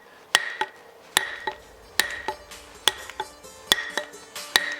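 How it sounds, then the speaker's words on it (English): A hammer drives wooden wedges into the head end of a custom axe handle, giving sharp, ringing metallic strikes in a steady rhythm, roughly two blows per second-long cycle, close and alone. "Hammer this side in."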